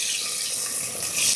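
Tamarind water is poured into Kerala-style sambar in a pot, a close, steady splashing pour that runs without pause for over a second, with no talk.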